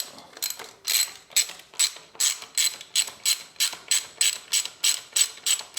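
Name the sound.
unbolting the 6mm shifter peg bolt on a Harley-Davidson Sportster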